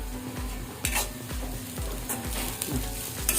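Onion tempering for mosaru oggarane sizzles in a pan while coriander leaves are stirred in, with a steady frying hiss under regular spoon scrapes about twice a second and a few clinks, close and continuous.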